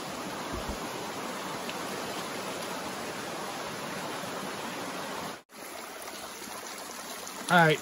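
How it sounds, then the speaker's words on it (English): Small creek drainage on the Appalachian Trail running full after two days of rain, a steady broadband rush of flowing water that holds constant, with a brief dropout near the end and a short voice at the close. "all these little water drainages are flowing good today due to the rain we've had in the last 2 days"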